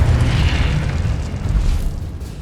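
A Confringo blasting curse explodes in the Hogwarts Legacy video game, a loud, sustained rumbling boom with heavy low-end that rolls on for a couple of seconds and fades slightly toward the end.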